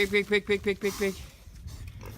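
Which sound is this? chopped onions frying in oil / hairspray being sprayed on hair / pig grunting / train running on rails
pig grunting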